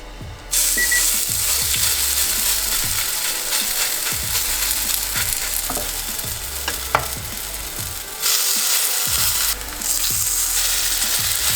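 Potato pancake batter hits a pan of hot oil over medium heat and sizzles loudly and steadily, a close, continuous crackling hiss with occasional scraping, no voices.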